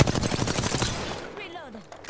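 Rapid gunfire in Apex Legends aimed at the player, a quick burst of close shots for about a second that fades into quieter game effects.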